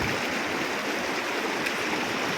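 Water rushes and gushes continuously in a dense, steady roar, fairly close and unbroken for the whole stretch.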